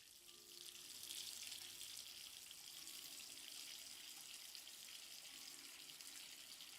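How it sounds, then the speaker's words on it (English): A water tap runs steadily to fill a bath, giving a continuous hissing gush in a bathroom with no voices. "Hearing him turn on the water"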